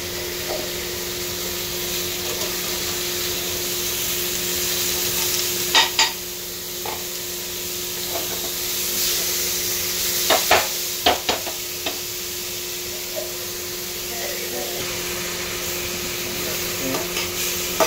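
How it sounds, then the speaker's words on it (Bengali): Mushrooms fry with a steady hiss in a pan over a constant low hum, while irregular light scrapes and taps of stirring come through close by and cluster around the middle. "এবার আমরা এখানে মাশরুমটাকে"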